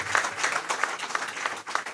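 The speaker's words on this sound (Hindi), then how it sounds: "तालियां राजेंद्र प्रसाद जी" A crowd at a Hindi-language public gathering gives brief applause in honor of Rajendra Prasad, with scattered, moderately loud claps pulsing in short bursts.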